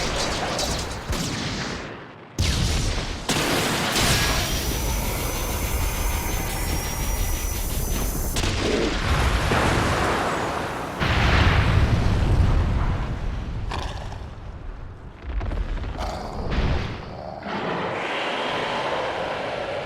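Artillery fire in a Naruto anime attack on the Nine-Tails: a loud, sustained barrage of roaring blasts and booms in several long bursts with brief breaks.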